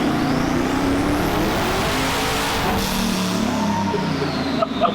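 A boosted AMC Pacer engine on a dyno, revving loud and sustained at high RPM as the pitch rises steadily through the pull, dense and close with no talk over it.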